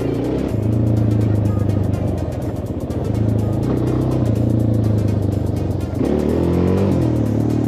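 Suzuki LTZ 400 quad engine revving up and easing off through its gears, a loud steady motor drone with pitch rising and falling throughout.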